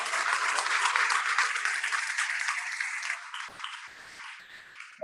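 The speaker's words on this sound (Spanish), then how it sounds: "le dan un aplauso al Señor." A church congregation bursts into sustained, dense applause that fills the room, then thins into scattered claps and fades toward the end.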